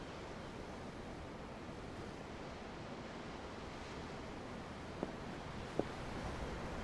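Steady broadband wash of ocean waves from the video game Tales of Arise, a continuous surf roar with no distinct breaks, plus two faint brief clicks near the end; no talking.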